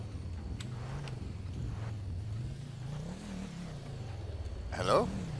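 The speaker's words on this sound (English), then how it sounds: "are you just sitting there revving up your engine?" A car engine revs in GTA V, a low engine drone rising and falling throughout with a brief louder surge near the end, while people talk over it.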